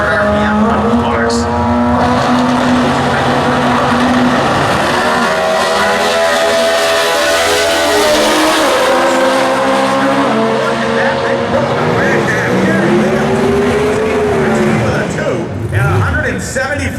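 A Comp Eliminator drag racing pickup truck engine revving at full throttle toward a 9,500 RPM redline at a national drag racing event, a loud, sustained roar with rising and falling pitch, announcer talk underneath.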